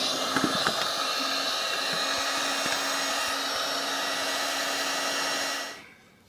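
Heat gun running on high while warming a Mikuni BS29 carburetor to free a stuck choke plunger, a loud steady blowing roar with a faint whine that cuts off near the end.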